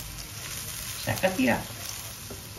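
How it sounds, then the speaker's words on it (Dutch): Cod fish roe frying gently in a pan over low heat gives a soft, steady sizzle throughout, while a person speaks briefly over it partway through. "Dan heb ik hem op zachte vuur. Even laten bakken."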